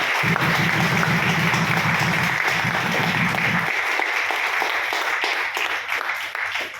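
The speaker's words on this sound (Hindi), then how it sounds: "तो तालियां बजा के दिखाना।" A large seminar audience in Delhi applauds loudly and continuously, dense clapping that carries on before gradually thinning toward the end.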